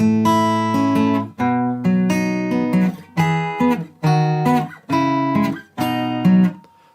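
Guitar strumming the chorus of a song: a loud, steady pattern of full chords in short phrases, each phrase ringing briefly before the next begins, with no voice over it.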